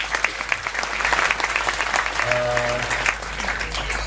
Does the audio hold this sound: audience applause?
yes